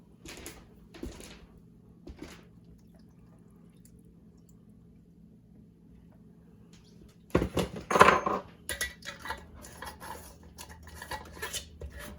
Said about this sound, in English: Get the lid on nice and tight.